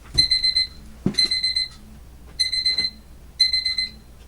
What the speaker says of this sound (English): Uh-oh, I got an alarm going off.